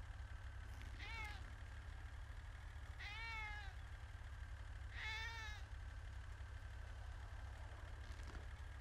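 A cat meows three times in drawn-out, wavering calls spaced a couple of seconds apart, heard during a police arrest scene over a steady low engine idle and roadside rumble.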